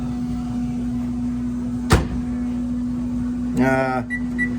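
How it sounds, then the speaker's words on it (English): A steady low electrical hum runs throughout, broken by a sharp click near the middle and a short beep-like burst toward the end. "I put her in the microwave now."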